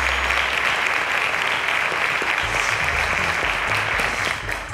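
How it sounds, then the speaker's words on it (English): Studio audience applause on a quiz show, a broad, even roar of clapping held steady at moderate level, with a low musical hum entering partway through and the clapping tapering slightly at the end. "A round of applause to Ahmad, ladies and gentlemen."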